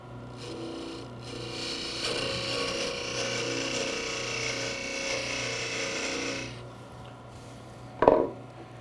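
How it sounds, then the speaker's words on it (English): A parting tool cuts into a sanded wooden Christmas ornament spinning on a lathe, giving a steady rasping scrape for about six seconds over a low motor hum, then a brief sharp knock near the end. "I'll now use my parting tool to further reduce the diameter down here at the end"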